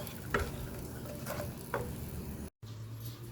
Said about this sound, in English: It's just starting to boil.